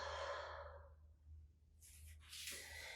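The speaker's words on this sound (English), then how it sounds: "We'll take one more inhale and exhale." A deep breath during a hot yoga session, a long, soft, airy exhale that fades out, then a fresh hissing inhale that builds toward the end, close and alone over a low room hum.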